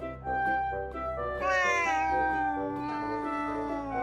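A cat meows loudly and continuously in a drawn-out, rising and falling cry, close up with no talk, sounding indignant.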